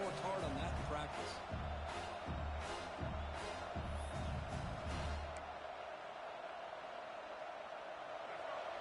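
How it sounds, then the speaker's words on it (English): Loud, fired-up crowd roaring at a college football game between Ole Miss and South Carolina, a dense continuous wash of cheering with rhythmic thumps or claps in the first six seconds that thin out toward the end. "It's early, but this crowd is fired up. Listen to this noise here."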